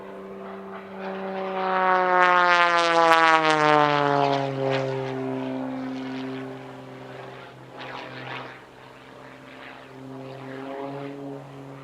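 An Extra 330 SC aerobatic propeller plane flies at an airshow, its engine drone rising loudly as it passes close, with pitch sliding downward as it pulls away into a fainter, wavering hum.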